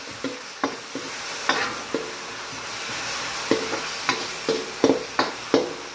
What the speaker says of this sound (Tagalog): lalagyan na natin itong ating pork. Lutuin natin ang ating pork.